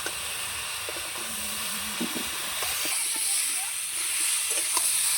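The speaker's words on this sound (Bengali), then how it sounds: "এবার আমি সবজিটা নেড়ে নেবো ভালো করে" Vegetables are stirred and fried in a pan with a steady sizzle and hiss, broken by scattered scraping strokes. The sizzle grows a little louder toward the end.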